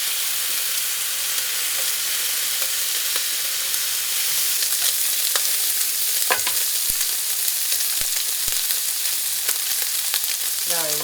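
Bacon cut into one-inch slices sizzles steadily in a very hot skillet, a loud, constant crackling hiss with a few sharper pops and scrapes toward the end, close up and with no talk.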